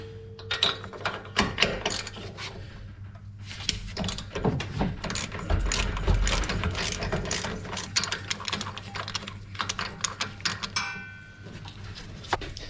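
Mechanical ratcheting and clicking from working an old, original plug loose on a vehicle under repair, a series of close, uneven clicks and scrapes continuing over a steady low hum.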